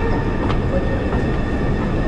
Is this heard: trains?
yes